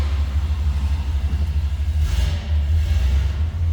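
1965 Ford Galaxie 500 convertible with a 289 four-barrel V8 idling just after a cold start, a loud, deep rumbling exhaust with a lumpy pulse and a brief rise in revs.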